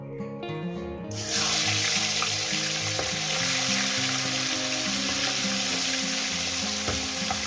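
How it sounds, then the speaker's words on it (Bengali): Rohu fish heads drop one after another into hot oil, and a quiet start bursts into loud, dense, continuous frying sizzle close by, with a low background hum and no talking. "তেলটা আমার গরম হয়ে গিয়েছে আমি এক এক করে মাছের মাথাগুলো এখানে"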